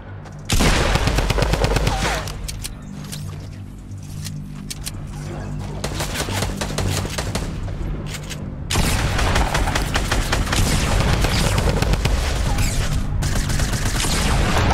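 Rapid bursts of automatic gunfire in a Fortnite Battle Royale match, loud and close, with dense rattling volleys, brief pauses and heavier booming shots near the end.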